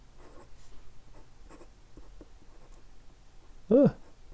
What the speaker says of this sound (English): I'm just going to write first.